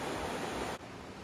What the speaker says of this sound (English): You can hear the sound of the river echoing off this rock face.